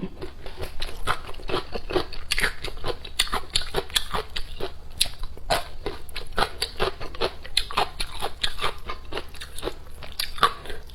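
Crunchy chewing and biting of spicy sour ginger, close and loud, in a steady run of crisp bites across the whole stretch with no talk.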